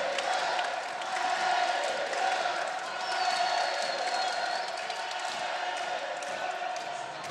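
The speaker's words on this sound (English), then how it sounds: "The French crowd" A French crowd at an outdoor archery recurve men's team gold final between France and Italy in Vittel, a steady far-off murmur and cheer of spectators beneath a commentator's voice.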